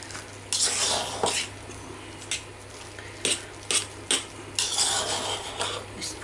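Potatoes being mashed in a crowded pan, heard as a run of close, loud metal clanks and scrapes against the pan, spaced irregularly over a steady low background hum.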